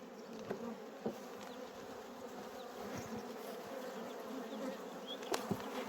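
Honeybees at a hive bringing in pollen, a dense steady buzzing hum close by with occasional louder passes of single bees, alone without talk.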